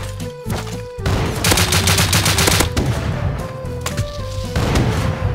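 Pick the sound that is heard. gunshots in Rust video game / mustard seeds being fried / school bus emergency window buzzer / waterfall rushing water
gunshots in Rust video game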